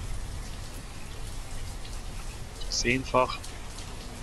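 Steady rain falls in the city-building game Banished, a continuous soft hiss of drops on surfaces that runs evenly throughout, briefly overlaid by someone speaking.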